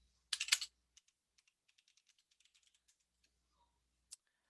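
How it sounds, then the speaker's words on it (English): Typing on a computer keyboard: a loud burst of clustered keystrokes, then a long run of light, quick, evenly spaced key clicks, and one sharp final tap, close and without talk. "Then we're going to type in our bullet points."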